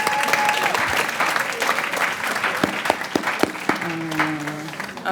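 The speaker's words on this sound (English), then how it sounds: "So please give another round of applause for all the teams." An audience at a summer celebration for UX design and internship graduates claps for the competing teams, a full sustained round of applause with a few sharp louder claps and brief voices underneath.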